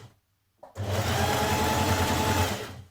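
Sewing machine running a zigzag stitch around the hood edge of a turned-under jersey fabric dress, a steady close mechanical whir with a fast rhythmic chatter for about two seconds after a short pause.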